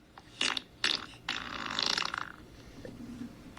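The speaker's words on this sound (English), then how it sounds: "you can access the whoopee cushion on an app. There's an app for a whoopee cushion" A whoopee cushion phone app plays fart sounds: two short sharp blasts, then a longer rasping, sputtering one that trails off, loud and close.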